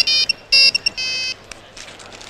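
Mobile phone ringtone sounding close and loud, a short melodic electronic tune played in several bursts with a brief gap between them.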